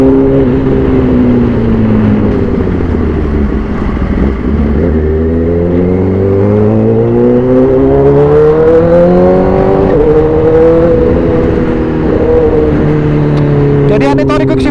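A 2012 Honda CBR1000RR 20th Anniversary sport motorcycle engine revs up and down through repeated rising and falling pitch sweeps, loud and continuous, with steady wind rush throughout as the bike accelerates and shifts via its quick shifter.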